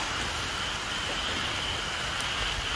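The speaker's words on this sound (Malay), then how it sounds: "Jadi hujan agak lebat." Heavy rain pours steadily outside a century-old church in Melaka, a dense, even hiss that fills the space with no break and no voices.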